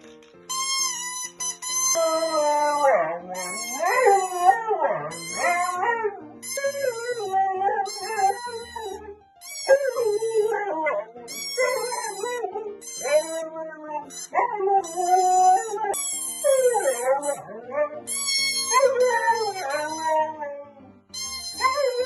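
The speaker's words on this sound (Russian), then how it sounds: "Сейчас я вам покажу, как наша Марта умеет петь." A dog howls and yips in long, wavering, song-like phrases for about twenty seconds, loud and close, with brief pauses between the rising and falling howls.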